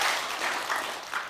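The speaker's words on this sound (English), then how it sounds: "So I want all of you to do your hands like this and clap when I say three" An audience claps together on cue during a talk, the clapping swelling in loose, uneven bursts rather than one crisp unified hit, moderately loud.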